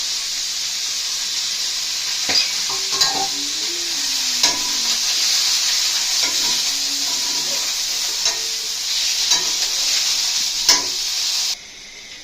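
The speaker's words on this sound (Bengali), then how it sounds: "তো এখানে আমরা চিকেনটাকে হালকা ফ্রাই করবো, বেশি ফ্রাই করবো না।" A whole chicken fries lightly in hot oil for a roast, giving a steady loud sizzle with occasional stirring scrapes and pops throughout, cutting off abruptly near the end.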